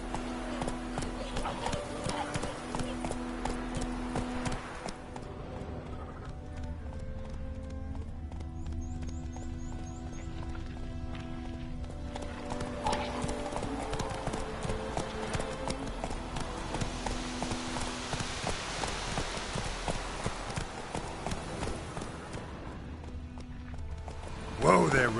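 Roach, the horse in The Witcher 3, gallops with rhythmic clip-clop hoofbeats under the game's music, continuing steadily with a voice speaking at times over it.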